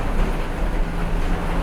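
Steady rain pattering during a Disney Skyliner gondola ride at Walt Disney World, a continuous broadband hiss with low rumble, close and constant throughout with no talking.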